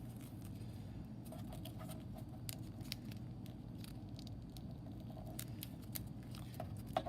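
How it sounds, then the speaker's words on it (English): Paper being crimped to curl a seahorse's body, heard as steady soft crinkling and snipping-like crunches repeating close up for several seconds, with no talking. "You can see each time I crimp it, I'm curling the body more."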